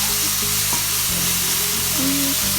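Garlic sizzles and is stirred in a hot pan for a Thai stir-fry ahead of shrimp baked with glass noodles, a steady loud frying hiss running throughout with a few scraping stirs and no voices.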